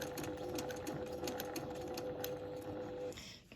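A sewing machine free-motion quilts with a Westalee ruler, running in a steady, close hum with a rapid needle rattle for about three seconds before stopping.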